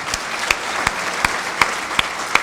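Audience at a political party gathering clapping for state party officials, dense applause with a few sharper, louder claps standing out at regular intervals.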